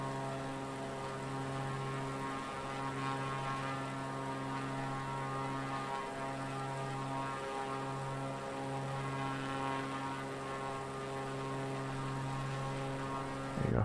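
A propeller aircraft in a flight simulator game holds a constant, even engine drone with a steady tonal hum, flying over Scotland and the UK in live weather, alone without speech.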